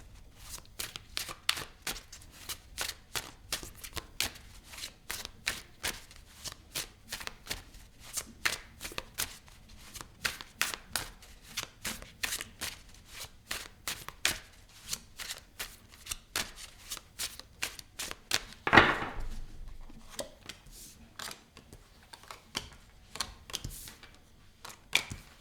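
Tarot cards shuffled by hand in a long run of rapid crisp riffles and snaps, close and dry, with brief pauses and one louder burst near the end.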